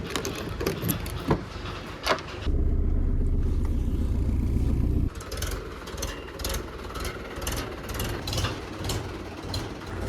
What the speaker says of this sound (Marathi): ट्रॅक्टर घेऊन भाऊ आलेला आहे